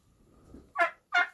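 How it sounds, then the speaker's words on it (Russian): Two loud turkey gobbles ring out close by on a farm where turkeys live alongside chickens and a rooster, each a short rattling burst separated by a brief pause, over faint low background noise. "А по соседству у них индюки живут."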